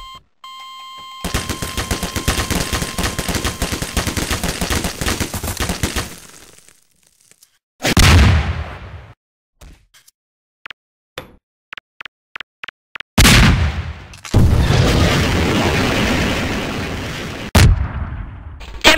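Bursts of rapid gunfire from the video game Garry's Mod, with sustained automatic fire, a heavy blast, sharp separate single shots and another long loud volley, all close and loud, starting over an electronic beeping tone.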